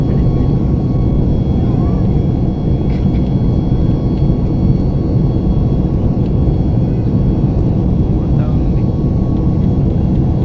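A loud, continuous low roar of an airplane cabin in flight at high altitude over Bangalore, steady and unbroken throughout, with faint muffled sounds beneath the drone.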